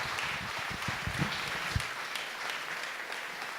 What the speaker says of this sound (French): Quand vous applaudissez